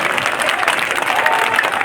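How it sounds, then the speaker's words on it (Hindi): A crowd at an employees' union meeting claps loudly for an arriving guest, a short dense burst of applause heard up close. "एक बार मुराद साहब के लिए तालियां हो रहा है"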